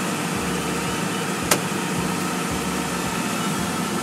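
Tractor engine running steadily with a throbbing, rhythmic low pulse while the clutch is let out slowly for rotovating, heard close with a single brief sharp tick partway through and no talking.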